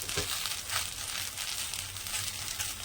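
Mint leaves roasting in a pan give a continuous crackling sizzle with scattered rustling and crinkling, fairly close and even throughout with no talk.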